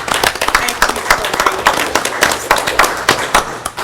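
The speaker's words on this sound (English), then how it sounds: "but we should clap for that." An audience at a regular commission meeting claps, a dense burst of hand claps sustained for a few seconds, close and loud, with voices in the room underneath.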